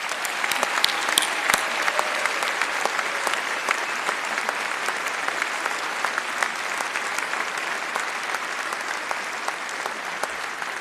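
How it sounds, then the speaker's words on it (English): A large auditorium audience applauds University of Michigan Honors students at a convocation, sustained, even clapping from many hands that stays loud and steady for about ten seconds. "I'd like to ask everyone in this auditorium to once again applaud this year's University of Michigan Honors students."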